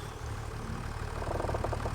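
A tractor engine idles in Farming Simulator 25, a steady low diesel rumble that gains a faster rhythmic chug partway through, with no talking.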